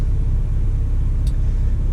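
A semi-truck's diesel engine idles steadily during a pre-trip inspection, a continuous low rumble filling the whole clip with no talk over it.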